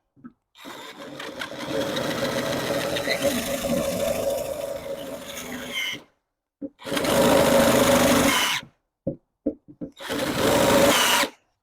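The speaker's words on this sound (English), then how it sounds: "I need my better drill. This drill is not meant for this." A power drill whines and grinds in long bursts, boring into the stuck trunk lock of a BMW Z3, stalling and restarting, with short pauses between runs; close and loud.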